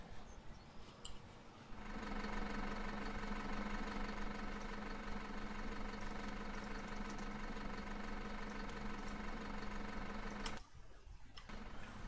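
A tractor engine idles in the farming game Farm Manager 2018. The sound is a steady, faint mechanical hum with a ticking pulse that runs for about nine seconds, then cuts off briefly and resumes. No voices are heard.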